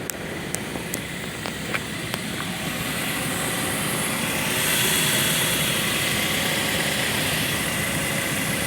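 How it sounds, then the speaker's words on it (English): A parked vehicle's motor idles with a steady low rumble throughout, close and continuous, with a few faint ticks early on and no talk. "That's the motor running."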